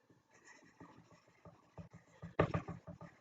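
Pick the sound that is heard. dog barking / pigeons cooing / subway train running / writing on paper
writing on paper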